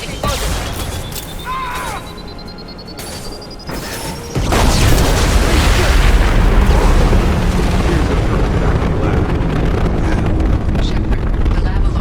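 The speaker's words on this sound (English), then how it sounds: "Impending explosion." A huge explosion erupts in Mass Effect Legendary Edition after a rising electronic warning tone, a sudden roaring blast that stays loud and rumbling for several seconds, with faint combat voices before it.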